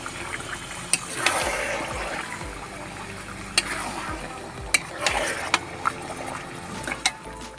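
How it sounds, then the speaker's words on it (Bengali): Marinated chicken being sautéed for biryani, a low frying hiss under repeated scraping stirs and sharp spatula clicks against the pan, close and uneven. "চিকেনটাকে আমি ভালো করে কষিয়ে নেব।"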